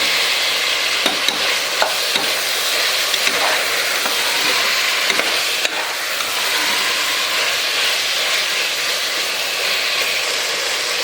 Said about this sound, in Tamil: வெங்காயம், பச்சை மிளகாய், தக்காளி நல்லா வதங்கிடுச்சு.